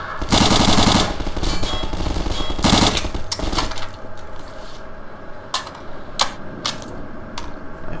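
Automatic rifle in Garry's Mod firing in loud sustained bursts for the first few seconds, then a handful of sharp single shots spaced apart as the volley trails off; no voices.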